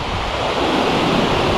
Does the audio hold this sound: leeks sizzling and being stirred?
no